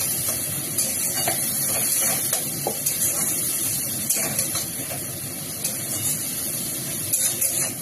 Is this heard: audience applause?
no